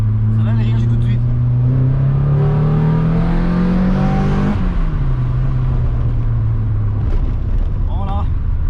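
Renault Clio Williams 2.0 16v engine revving hard, pitch climbing steadily as it accelerates then dropping sharply at a gear change, loud and close, with a few faint voices in the background.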